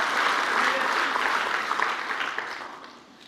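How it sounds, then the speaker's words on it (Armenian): A church congregation claps together in sustained, dense applause, a broad wash of hand claps that holds steady and then gradually fades toward the end. "ծափարեք Տիրոջը Հիսուսի արյան համար"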